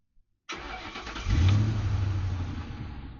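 A roughly 60-year-old Ford truck engine cranks and catches after a brief click, then rises into a loud, rumbling idle that swells and slowly settles, heard up close.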